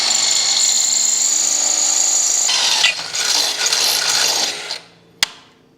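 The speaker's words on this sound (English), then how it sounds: "All you have to do is run your drill bit into that hole and come out the other side of this bracket" Power drill bit boring through a metal tractor canopy bracket, a loud continuous whine that shifts partway as the bit cuts through, then winds down to a final sharp knock.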